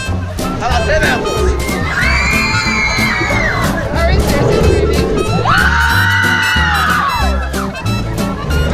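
Loud crowd yelling and cheering in sustained waves of high, overlapping voices, swelling twice into long shrieks, with close talk mixed in.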